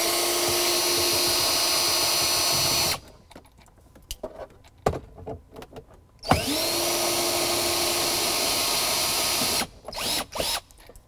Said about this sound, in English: grab you a 5/16 or 8mm socket, and you can remove the two bolts on each side that hold the armrest onto the